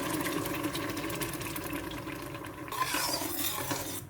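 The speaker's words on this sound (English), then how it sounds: "So I have to keep stirring this one." A pot of beans porridge with blended tomatoes, pepper and onion is stirred continuously. The close, rhythmic scraping and churning is mixed with a faint mechanical hum, and no one talks.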